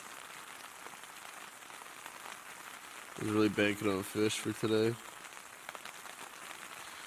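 Rain patters steadily on surfaces outside on a cold early morning, a soft continuous hiss with someone speaking briefly over it midway.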